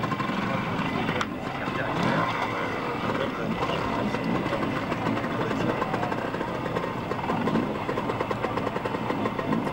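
An Aprilia trials motorcycle engine at a 1987 World Trials Championship round in Great Britain, a continuous mid-distance engine drone with faint crowd and outdoor noise, steady for several seconds.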